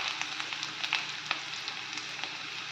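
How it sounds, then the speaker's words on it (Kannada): Onion, garlic, ginger, green chili and fennel seeds fry in hot oil for a prawn dish, a steady close sizzle with soft crackles and occasional stirring. "ಇದನ್ನೆಲ್ಲ ಫ್ರೈ ಮಾಡ್ಕೊಳ್ತಾ ಇದ್ದೀನಿ"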